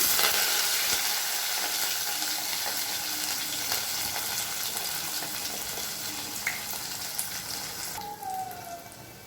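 Onion, green chilies and curry leaves frying in hot oil, a steady dense sizzle that fades slightly over time, with a few faint utensil clinks and a brief water-like sound near the end.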